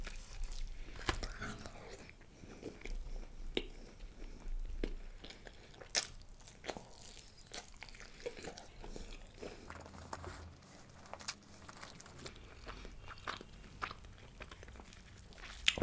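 Mutton eaten with bread and cheese naan at a close-miked mukbang, with soft repeated chewing and biting, moist squishy mouth sounds and occasional light crunches continuing steadily throughout.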